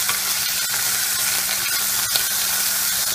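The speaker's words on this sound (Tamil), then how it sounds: "இப்போ பேனில் ஆயிலை நல்லா ஹீட் பண்ணிவிட்டு இந்த வெட்டி வச்சுருக்கோம் இல்லையா கத்திரிக்காய், அதை போட்டு நல்லா வதக்கிடணும்" Cut brinjal pieces sauté in hot oil in a pan for kara kuzhambu, a dense continuous sizzle with a few sharp stirring knocks, close and alone.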